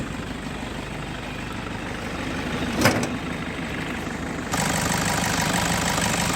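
A Toyota Innova pickup engine idles with its bonnet open, a steady even rumble throughout, with a brief clatter near the middle and the idle growing slightly louder toward the end; no talk.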